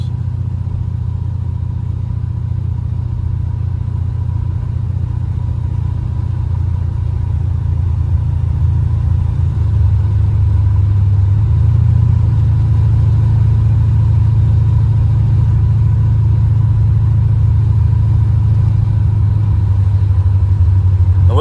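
Big-block V8 in a 1986 Buick Regal G-body with Holley EFI, droning as a steady low rumble from inside the car and rising in pitch as it pulls harder toward the end.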